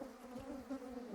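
A mosquito whines in a thin, steady drone close by, faint and continuous for about a second with no talking.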